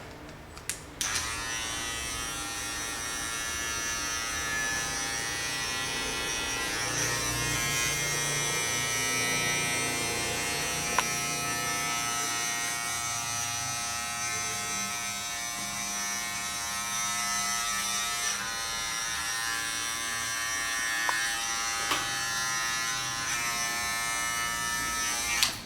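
Close electric clippers buzz steadily for a long stretch while trimming a short social American-style men's cut with number 1 and half-number guards, the hum dipping and swelling slightly as the blade passes through hair, with a few small clicks.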